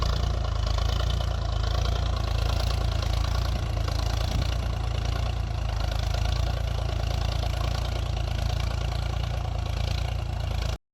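A Massey 8055 tractor pulls an MB plough through a field, its engine droning steadily and loudly with a constant low rumble throughout before cutting off abruptly.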